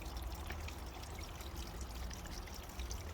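Water from a homemade garden bird bath fountain, driven by a small pump, pours down through the centre of the main pipe back into the tank, a steady close trickling flow without splashing and with no voices.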